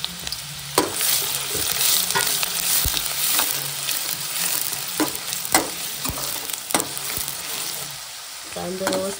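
Sliced onions fry in oil in a pan until browned, giving a steady close sizzle with repeated sharp scrapes and clacks as a spoon stirs them, with no talk.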